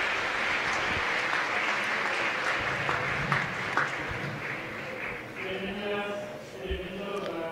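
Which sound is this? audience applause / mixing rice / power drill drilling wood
audience applause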